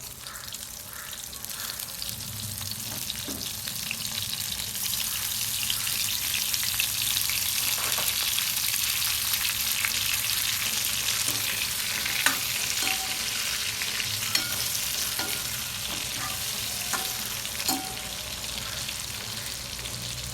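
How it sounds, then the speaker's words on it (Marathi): Stuffed brinjals fry in hot oil in a village-style kitchen, giving a steady, dense sizzle throughout with occasional stirring clinks and crackles, no talking. "वांगे सोडून द्यायचे मध्ये वांगे फ्राय करून घ्यायचे"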